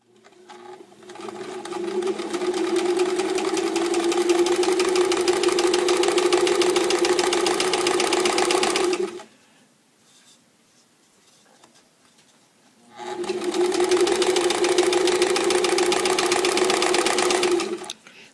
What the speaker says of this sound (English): I'm just going to start sewing that using a straight stitch